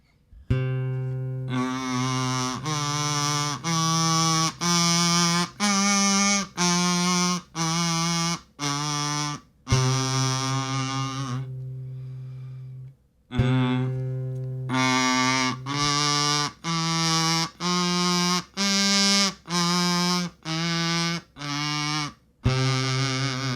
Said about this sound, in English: So if we put our kazoo up, open your mouth a little bit, allow air to pass through.